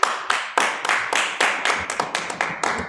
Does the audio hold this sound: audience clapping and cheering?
yes